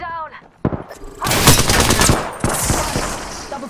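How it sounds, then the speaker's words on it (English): Gunfire in the battle royale shooter Apex Legends, with a sharp crack followed by a dense, rapid stretch of shots and impacts close by, mixed with clattering game effects. "Taking fire!"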